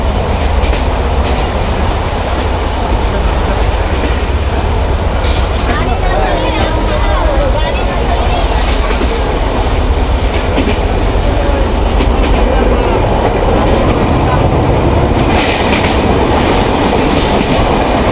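Inside the Benapole Express on an afternoon run from Faridpur to Dhaka, the carriage rumbles loudly and continuously with rhythmic wheel clatter, while muffled voices carry beneath the din.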